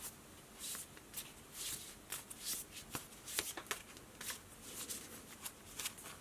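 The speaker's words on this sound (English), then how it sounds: "This deck is a bit harder for me to shuffle." A deck of cards is shuffled continuously by hand, with a close, soft run of flicks and riffles in an uneven rhythm and no voices.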